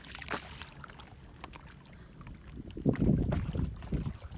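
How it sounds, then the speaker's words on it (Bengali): A small wooden fishing boat carrying six people moves fast across choppy river water, with wind rushing over the microphone and a louder surge of water and hull noise building toward the end; no one speaks. "দেখো জলের ঢেউ আছে ভালোই, নৌকা যাচ্ছে খুব জোরেই।"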